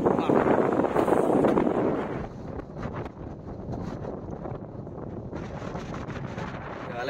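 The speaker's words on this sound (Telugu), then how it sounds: "బయట గాలి బాగా వస్తుంది." Strong wind rushing and buffeting outside a moving car, loud at first and then settling into a steadier roar.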